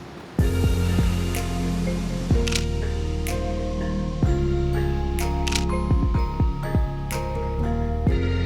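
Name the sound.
Nikon D200 DSLR camera shutter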